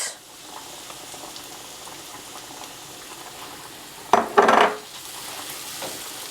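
Sun-dried tomatoes sweat over onions in a pan with a steady, moderate sizzle throughout, broken midway by a short burst of loud clattering as a utensil stirs and knocks against the pan.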